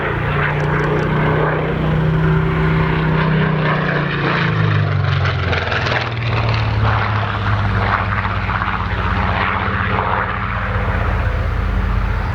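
A Seafire F.Mk.XVII propeller naval fighter roars past close and loud at an Old Warden air display, its engine drone shifting pitch as it flies by, steady and continuous throughout.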